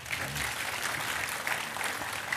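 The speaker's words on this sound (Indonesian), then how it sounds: "Sekali lagi tepuk tangan untuk Mbak Puan." An audience applauds steadily and fairly loudly after a speech at an Indonesian event, a dense even clatter of clapping throughout with a faint voice underneath.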